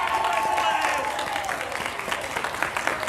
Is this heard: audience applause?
yes